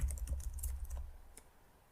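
Rapid keystrokes on a computer keyboard while coding, a quick run of close, crisp clicks that fades to quiet after about a second.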